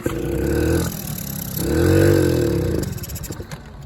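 A Honda Express NC50 moped engine cranks and catches, revving under throttle in two swelling bursts separated by a brief dip, then sputters down to a rough, uneven putter, close and fairly loud with no voices.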